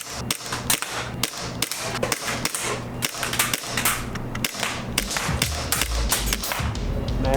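BB gun fired at cans during a timed shooting test, giving a rapid string of sharp, close pops, about a dozen in seven seconds, over a steady tonal backdrop.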